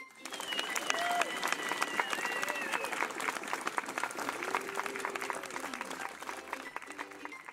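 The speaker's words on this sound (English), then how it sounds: "Let us give ourselves a happy clap." Children clapping together after an English lesson story, a brisk scattered patter of many small hands running steadily throughout, with a few voices calling out over it.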